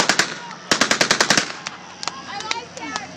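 A machine gun fires loud, close bursts of rapid shots, a sharp rattling volley followed by scattered single cracks and echoing reports, at an outdoor Memorial Day event.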